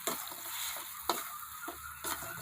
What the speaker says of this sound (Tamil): ஊறுகாய் தாளிக்கும் போதே கொஞ்சம் நிறையா எண்ணெய் ஊற்றி தான் தாளிக்கணும்.